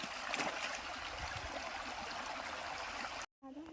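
Steady rushing of a rain-swollen stream flowing nearby beside farm fields, a continuous broadband wash that cuts off abruptly near the end.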